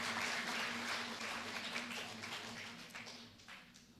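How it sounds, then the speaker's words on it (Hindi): An audience at a drama workshop claps together in a dense, steady burst that gradually thins and fades over a few seconds, with no speech on top. "इसके लिए भी तालियां बजाइए आप लोग।"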